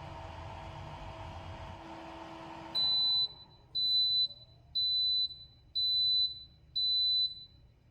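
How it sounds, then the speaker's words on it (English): Five loud, high electronic beeps in a steady rhythm, each about half a second long, after a Dr. Brown's sterilizer and dryer's hum and whir stops at the end of its cycle. "once it's done, it will beep and let you know that it's finished"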